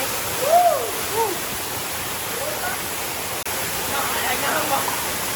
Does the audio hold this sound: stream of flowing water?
yes